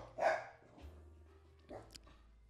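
A dog gives one loud bark near the start, then fainter yips and whimpers follow in a quiet indoor space, with some faint talk in the background.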